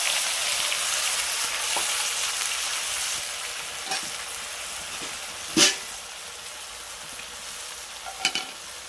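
Spice paste poured into hot tempering oil for a prawn malai curry, giving a steady broadband sizzle of frying with a few sharper crackles and pops partway through, close and moderately loud with no talking.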